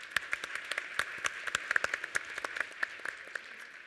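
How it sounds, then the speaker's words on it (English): Audience at a business forum session applauds the panelists, with crisp individual claps at a fairly quiet level over a faint steady tone, continuing evenly throughout. "Might I please ask you to please give my panelists a big, big round of applause."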